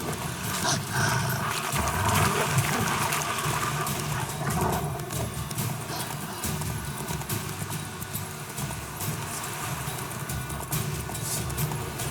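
A horse in The Witcher 3 video game gallops with steady clip-clop hoofbeats, loud and continuous beneath a dense layer of game ambience and music throughout.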